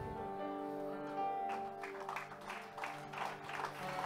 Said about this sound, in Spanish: Dele fuerte el aplauso a Jesús.